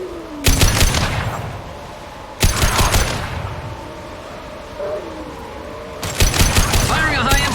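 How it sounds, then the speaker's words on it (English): Bursts of gunfire from the video game Mass Effect Legendary Edition, in three loud volleys of rapid shots, with tonal game sounds and ambience between them. "Firing a high-impact shot!"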